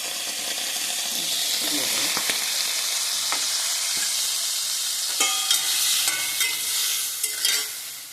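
Ground ginger, cumin, chilli and turmeric paste frying with lightly fried cauliflower and potato in a pan, giving a loud, steady hiss and sizzle up close, with a few scrapes and clinks near the end.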